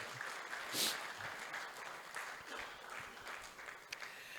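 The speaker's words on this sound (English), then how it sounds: "May we give them a resounding applause for a job well done" Applause from guests at a book launch in a Marriott hotel, soft and distant, a steady patter of clapping with a brief louder burst near the start.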